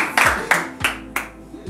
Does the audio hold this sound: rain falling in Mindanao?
no